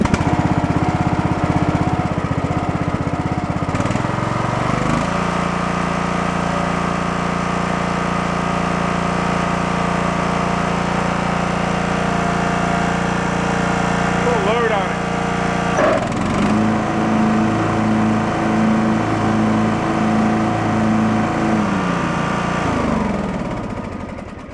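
A DR field and brush mower engine runs steadily with the electric PTO loaded, a loud continuous drone that dips and shifts pitch twice as the load changes, close and unbroken throughout.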